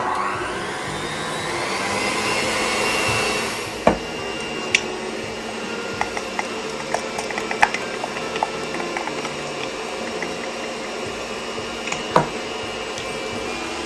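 No-bake cheesecake filling is mixed in a bowl. A steady, close mechanical whir runs throughout, with scattered light taps and clicks breaking through in the second half.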